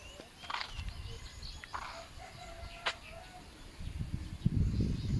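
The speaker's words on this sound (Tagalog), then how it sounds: "Huni ng ibon, naririnig mo." Birds chirp and call intermittently across the rural Bicol countryside near irrigated fields, faint and scattered, with a low rumble and a rooster-like cluck rising near the end.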